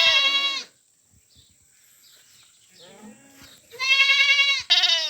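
A goat bleats loudly and close by, twice, with a quieter stretch of shuffling and faint noises in between.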